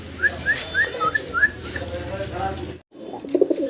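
Domestic pigeons coo and whistle in a rhythmic series of calls close by, with people talking underneath and a brief dropout partway through.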